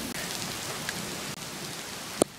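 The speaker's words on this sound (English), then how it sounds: "it's pretty rainy and thundery." Heavy rain pours outdoors around a runner, a steady dense hiss of drops close by, with a single sharp tap near the end.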